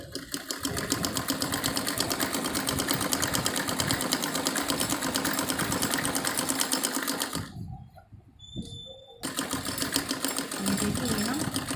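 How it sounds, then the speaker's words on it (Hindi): A sewing machine running a straight seam along a folded shirt sleeve, a loud continuous rattling whir that stops briefly for about a second and a half, then resumes. "सीधी सिलाई हमें यहाँ तक लगा कर लानी है"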